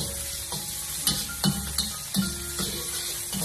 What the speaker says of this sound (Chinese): 再把切好的猪肉给它放进锅中，开小火给它翻炒一下